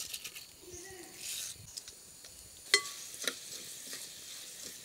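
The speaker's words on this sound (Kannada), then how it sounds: "ಸಾಸಿವೆ ಎಲ್ಲ ಸಿಡಿದಾಗ ಜೀರಿಗೆಯನ್ನು ಸೇರಿಸಿಕೊಳ್ಳೋದು" Mustard seeds, cumin and other spices sizzle and crackle faintly in hot coconut oil for a Mangalore-style tempering, with a steady low frying hiss and a few scattered pops and clicks throughout.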